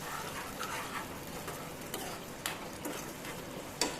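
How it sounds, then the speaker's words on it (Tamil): Maniamma chutney is stirred in a pan over low heat, a faint soft sizzle under occasional light scrapes and taps of a spoon against the pan. "சிம்மில் வச்சு எண்ணெய் பிரிஞ்சு வர அளவுக்கு அடி பிடிக்காமல் அப்படி கிண்டிக்கிட்டே இருக்கணும்"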